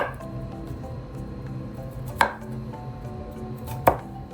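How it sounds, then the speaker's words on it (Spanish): Broccoli is cut into small florets with a knife on a board, two distinct sharp chops about a second and a half apart over a low background hum. "El brócoli lo parto en pequeños arbolitos"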